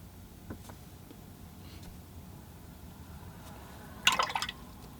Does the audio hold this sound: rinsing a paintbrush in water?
yes